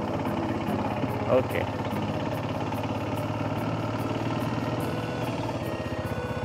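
An ATV engine runs with a touch of throttle on a trail into forest near Lake Toba, a steady mid-pitched rumble throughout, with a brief voice near the start.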